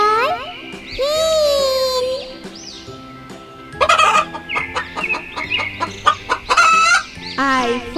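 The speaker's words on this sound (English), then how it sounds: "H for hen." Clucking and gobbling fowl calls in bursts, loud and close, with short pauses between calls and no speech.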